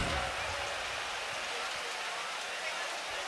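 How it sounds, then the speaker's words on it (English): At a Buffalo Bills vs Cleveland Browns football stadium during a lightning delay, rain falls as a steady hiss of broadband noise. It stays even and continuous throughout with no talk. "Rain continues to fall as Joe Brady"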